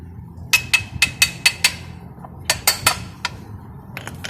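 A hammer taps a metal clip while assembling a Honda Spacy-i kick-start mechanism, a quick run of six sharp strikes, then a few more spaced hits after a pause, close and clear.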